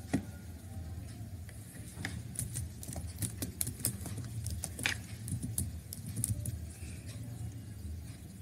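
Someone types on a computer keyboard while entering text in an MS Word document: scattered, irregular key clicks over a steady low hum, fairly close and moderately quiet, with no speech.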